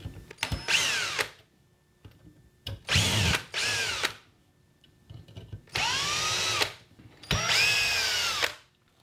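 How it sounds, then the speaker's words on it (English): A power drill backs bolts out of a 3D printed slip-casting mold for a 12oz mug, running in four separate bursts, each a whirring spin with a rising or falling pitch. Short quiet gaps fall between the bursts. "So to do that, we just back out all the bolts."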